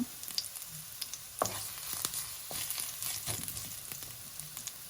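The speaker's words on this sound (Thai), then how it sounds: "ผัดกระเทียมให้หอม" Garlic sizzles in a pan for fried rice, a faint steady hiss broken by scattered crackles and soft knocks of a spatula stirring, heard close with no voices.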